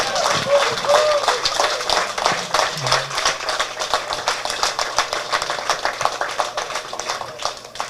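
Crowd applause for the next Prime Minister of Grenada, Carriacou and Petite Martinique, with dense continuous clapping throughout, brief voices cutting in near the start and a steady rattle of many hands to the end.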